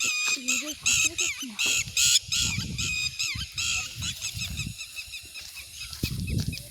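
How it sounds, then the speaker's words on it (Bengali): Birds, likely geese, honk and call repeatedly in a busy, overlapping chorus close by at Bindubari, with some low background noise. "পাখির ডাক শুনি"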